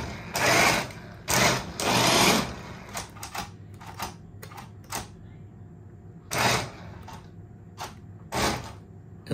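Steering servo on an RC drift car whirring through a steering test, with several short buzzing bursts of a second or so, close by, broken by pauses and small clicks.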